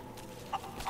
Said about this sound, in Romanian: Am prins găina.